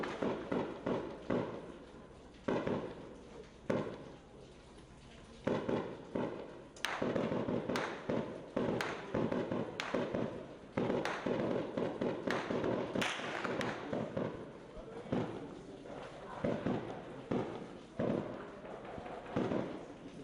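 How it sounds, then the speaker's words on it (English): Sharp gunshots crack repeatedly during a police operation in a Rio favela, scattered single and clustered reports at varying distances over a steady background, with no talk. "More shooting."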